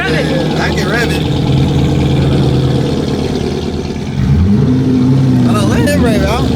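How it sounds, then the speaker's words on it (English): A bass-boosted truck engine idles with a heavy low rumble, then revs up with a rising pitch swell near the end while people talk and shout over it. "Can you rev it for the one time? Rev it. I can rev it."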